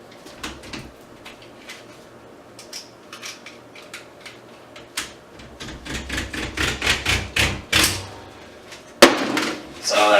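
Plastic outer jacket being cut off heavy armored copper cable by hand, producing a series of close, sharp snips and cracks that grow louder and faster, ending with a heavier crunch.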